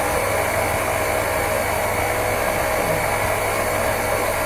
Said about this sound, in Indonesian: Kalau kamu pakai standing mixer, kalau dia udah mulai agak berat, harus kamu naikin speednya.